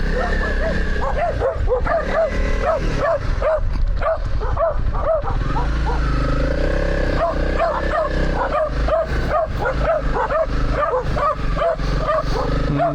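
Several dogs bark and yip excitedly, close and loud, over a rumbling motorcycle engine, with rapid overlapping barks continuing throughout.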